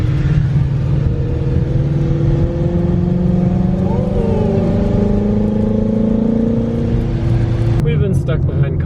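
A Ford Mustang GT350 on a mountain road, its exhaust holding a loud rising and falling drone as it revs through the gears, heard from inside the car with talk over it and an abrupt cutoff near the end.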